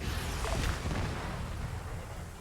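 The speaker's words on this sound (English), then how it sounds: "Clear back blast, rocket. Calling it out." A rocket launcher fires in an Arma 3 military operation, a broad rumbling blast with a whooshing burst that swells early and then trails off into steady low battlefield rumble.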